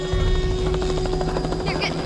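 Helicopter rotor in The Last of Us Remastered, a steady loud chopping drone with a constant whine running throughout, mixed with game sounds and some background voice.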